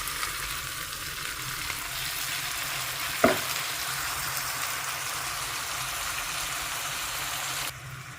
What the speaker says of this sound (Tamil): இது நல்லா கிளறி விட்டு இன்னும் ஒரு 5 நிமிஷம் வைக்கணும்